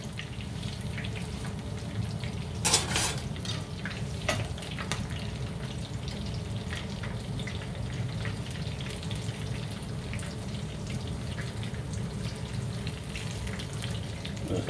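Prawn brick pastry fries in fresh oil with a steady, soft bubbling sizzle throughout and one brief louder crackle near the start; no talking.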